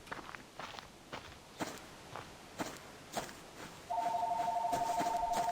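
Faint footsteps thud at a steady walking pace, then a telephone starts ringing near the end with a continuous electronic trill that sits clearly above the quiet steps.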